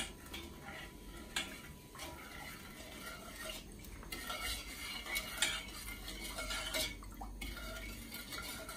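Sugar and raw figs stirred in a pot with a few cloves to make fig jam, a soft continuous scraping with light clinks of a spoon against the pot.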